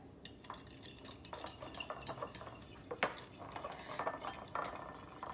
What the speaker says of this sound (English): Then we just want to mix that up a little bit.